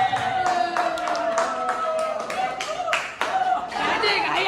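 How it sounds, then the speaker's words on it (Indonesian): A classroom of ninth-grade students gives a round of applause, with many hands clapping in quick uneven bursts for several seconds under some light chatter. "kita berikan aplaus dulu"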